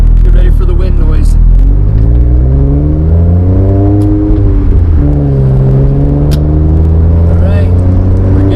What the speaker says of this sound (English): Get ready for the wind noise.